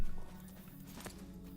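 Horse hooves clip-clop in a Corsairs of Umbar expansion video game, a few quick soft hoofbeats close by under low background game ambience.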